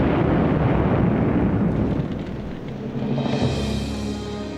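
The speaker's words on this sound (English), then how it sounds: "the Lexington, still afloat, suddenly erupted in a huge explosion" Archival wartime footage of the aircraft carrier USS Lexington exploding from ignited aviation fuel, a dense, loud, continuous rumbling roar that stays heavy throughout and eases slightly toward the end.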